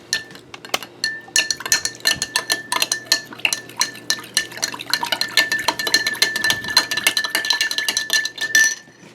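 A spoon stirs homemade aloe vera hand sanitizer in a bowl, producing rapid, bright metallic clinks and scrapes that repeat steadily for several seconds, close and clear with no talking.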